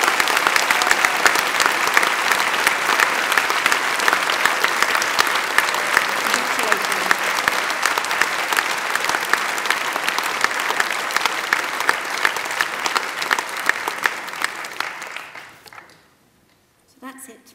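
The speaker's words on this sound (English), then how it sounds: "I think we should give you another enormous round of applause" Huge, sustained applause fills the hall at a university degree ceremony in Milton Keynes, dense clapping holding steady for about fifteen seconds before fading away, with a brief burst of noise at the very end.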